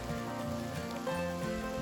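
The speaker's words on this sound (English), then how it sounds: "that's the amount of rain we're having" Heavy rain pours onto a tarp shelter at a solo island campsite, a dense, loud, continuous hiss and patter with no talking.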